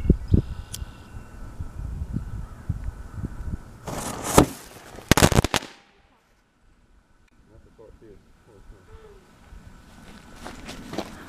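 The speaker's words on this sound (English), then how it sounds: "firecracker number 1, which I believe is just straight flash powder" A flash powder firecracker gives a few sharp, loud cracking bangs in quick succession, followed by quiet outdoor ambience with faint rustling.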